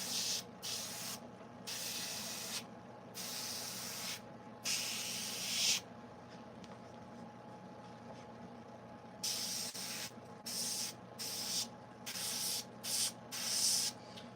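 An airbrush sprays paint onto a chainsaw-carved wooden piece in short, close, hissing bursts of varying length separated by pauses, over a faint steady background hum.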